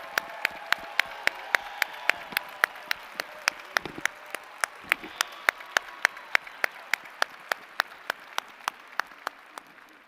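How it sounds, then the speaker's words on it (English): Commencement audience applauding faculty and staff, a broad hall full of clapping heard at moderate distance, with sharp, evenly spaced camera-like clicks ticking over the steady wash of hands. "Please stand so we can recognize you and give you a round of applause."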